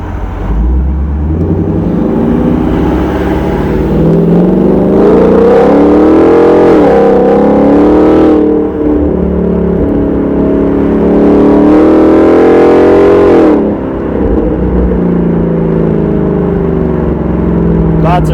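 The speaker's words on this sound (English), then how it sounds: "Even if I had a coupe, I still would have went with the S-Type" A 2019 Mustang GT convertible with a Borla S-Type exhaust drives in traffic, its V8 note rising and falling through a couple of revving pulls over a steady low rumble, close and loud.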